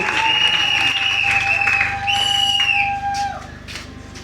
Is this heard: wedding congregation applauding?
yes